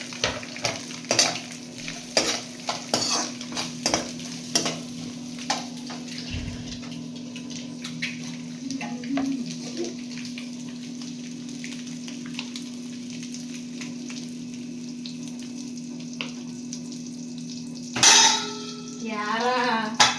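Onions frying in a pan for egg fried rice, a low steady sizzle with intermittent stirring scrapes and utensil clinks throughout, a brief louder clatter near the end.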